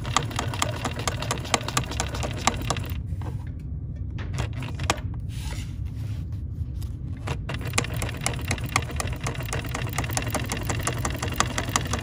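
A Bernina sewing machine with a Legacy foot stitches fabric in a steady, fast mechanical hum with rapid needle ticking, running continuously close by and easing briefly midway before resuming.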